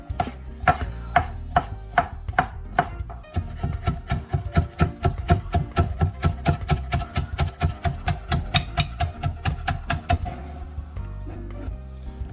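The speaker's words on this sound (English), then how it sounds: "let's get cutting. Alright, in one direction, and this is julienning." A knife julienning vegetables for a tuna casserole taps steadily against a cutting board, a long run of quick, evenly spaced close chops that slows and stops near the end.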